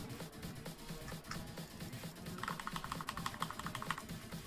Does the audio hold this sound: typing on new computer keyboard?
yes